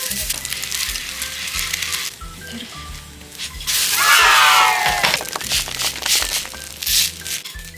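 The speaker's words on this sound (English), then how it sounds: "we're pan-frying the boiled noodles in olive oil until crispy" Boiled curry noodles pan-frying in olive oil give a loud, steady sizzle and crackle that swells in the middle as they crisp, with spatters and faint clatters of the pan.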